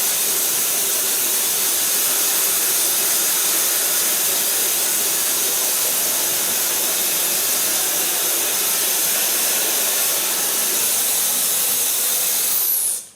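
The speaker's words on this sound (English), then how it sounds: "Blow dry this again." A hair dryer blowing on hair, a loud, steady, close rushing hiss that runs without a break and then cuts off at the very end, with no talking.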